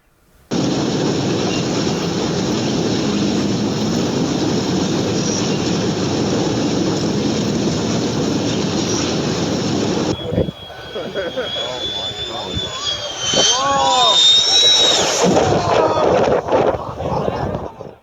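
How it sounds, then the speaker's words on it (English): A loud, sustained jet roar fills the first ten seconds, then cuts to excited shouting voices with lingering engine noise and wind. "I don't think I'd ever want a plane that close to me."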